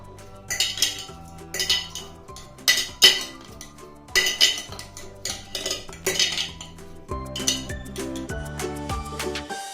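Soaked amla (Indian gooseberry) pieces for a traditional pickle are stirred in a metal kadai, making close, repeated metallic clinks and scrapes in an uneven rhythm with no talk.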